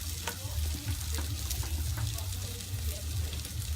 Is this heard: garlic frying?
yes